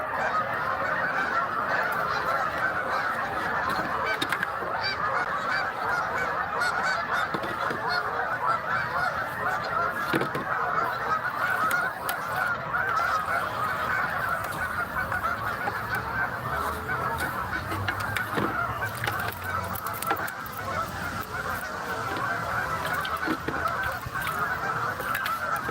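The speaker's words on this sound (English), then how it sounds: "Apparently that last pike pissed the geese off." A flock of geese honking loudly and continuously near a pike fishing spot, many overlapping calls forming a dense, unbroken clamor.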